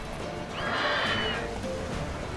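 Horse in The Witcher 3 video game giving a single clear, moderately loud neigh lasting about a second, followed by quieter snorting under a steady game background.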